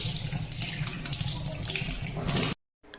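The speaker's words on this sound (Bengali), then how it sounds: "লেবু পাতাগুলো একটু ধুয়ে নিলাম ভালো করে" Lime leaves rinsed under a running kitchen tap, a steady close splashing flow for about two and a half seconds, then cut off abruptly into silence.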